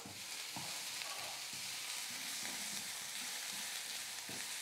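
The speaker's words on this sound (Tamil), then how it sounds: "எல்லாத்தையும் சேர்த்து இன்னும் கொஞ்சம் நேரம் லைட்டாக வதக்கிக்கலாம்." Grated coconut and tamarind sauté for a South Indian thogayal, a steady close sizzle in a pan with occasional soft stirring thumps, continuous and with no voices.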